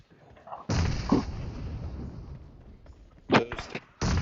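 Grenade blasts in PUBG Mobile, a loud sustained explosion followed by debris and rumble, then two more sharp bursts near the end, close and heavy with no talk over them.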